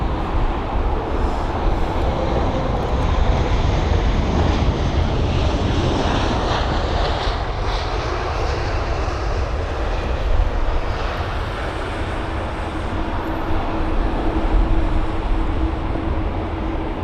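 A WestJet airliner arrives at London Heathrow, its engines making a loud, steady roar mixed with wind rumble on the microphone, holding at constant strength throughout.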